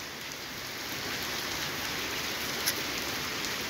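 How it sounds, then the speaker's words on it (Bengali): Heavy rain pours steadily over Dhaka, a dense, unbroken hiss of drops hitting surfaces at close range, with one brief sharper splash and no voices. "বৃষ্টি হচ্ছে, অনেক অনেক বৃষ্টি হচ্ছে।"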